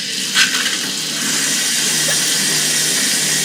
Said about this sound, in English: Took a shower.